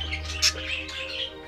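A pet budgie gives a few short chirps and one louder squawk over a low steady background hum, close and brief.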